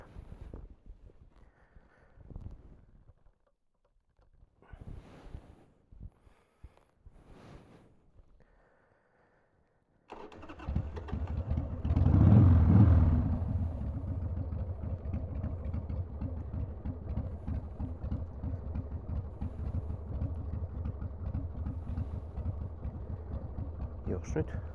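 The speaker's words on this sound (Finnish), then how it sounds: "lähdetäänpäs pikku lenkki ajamaan moottorskarilla" A Harley-Davidson Sportster motorcycle engine starts with a loud surge, then runs at a steady, close rumbling idle; quieter sounds come before it starts.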